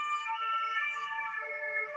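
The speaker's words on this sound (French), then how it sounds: "Pardonnez-moi si les sirènes couvrent un peu le bruit de ma voix." Emergency vehicle sirens from a passing convoy wail steadily with wavering tones for the whole stretch, moderately loud and nearby with no speech over them.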